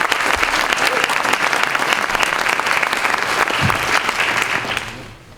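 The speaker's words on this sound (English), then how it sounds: "So can we give them a round of applause?" Sustained audience applause fills the room at a community event on law enforcement accountability, steady and dense throughout before tapering off near the end.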